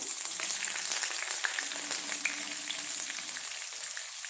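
Onions fry in hot oil in a pan for tomato rice, a steady close crackling sizzle that runs unbroken, with faint stirring scrapes now and then.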